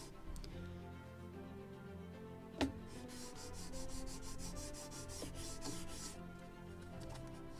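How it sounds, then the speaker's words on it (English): A wooden plank for a model gunboat is lightly sanded by hand in soft, steady strokes. The rubbing is quiet and close, with one sharp tap partway through. "Also slight sanding, cleaning, and then we will cut it."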